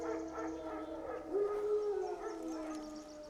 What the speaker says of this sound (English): Wolves? No. Wild dogs.